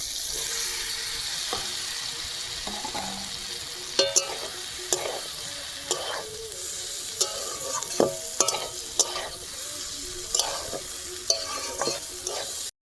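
Fresh beans and fried potatoes with melted tomato stirred in a frying pan, a low background sizzle punctuated by irregular scraping and clacking strokes of the spatula, no talking.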